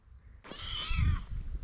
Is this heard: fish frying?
no